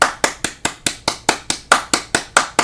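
One person claps alone, a dozen sharp, evenly spaced hand claps in a steady rhythm, close and loud with no other sound.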